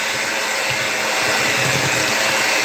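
An electric hand mixer whirs loudly and steadily as it beats butter and sugar for coffee cake, a constant close motor drone.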